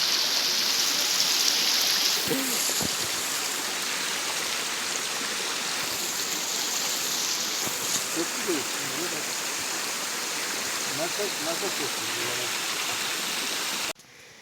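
A steady, roaring rush of falling water from a waterfall fills the scene, heard from steps near its base, with faint voices occasionally audible beneath the constant noise.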